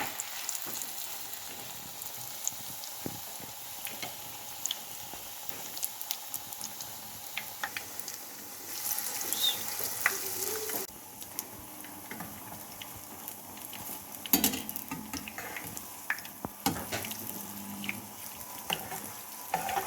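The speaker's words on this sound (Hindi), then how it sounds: "अब हम फ्राई करेंगे।" Bread pakora slices coated in gram flour batter fry in hot oil, a steady close sizzle and crackle with brief louder bursts and light utensil clatter, no voices.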